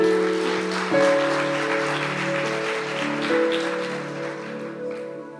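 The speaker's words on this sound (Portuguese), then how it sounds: "Vamos aplaudir ao Senhor, amados?" A church congregation applauding for the Lord during a sermon, a soft continuous patter of many hands under sustained keyboard or organ chords, moderately quiet and steady throughout.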